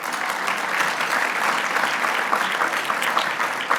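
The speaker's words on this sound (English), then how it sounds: "Give them a round of applause, please." A crowd applauds the host committee at the Edward M. Kennedy Institute 10th anniversary celebration, with even, continuous clapping from a sizable audience throughout.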